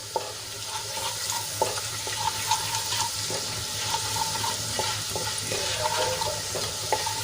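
Gram flour sautéing in a pan with ginger, garlic and green chili paste gives a steady, close sizzle with soft scraping stirs at intervals, a continuous frying hiss throughout and no talking.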